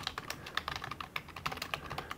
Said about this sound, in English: I'm gonna start by typing in my hero keyword into the search bar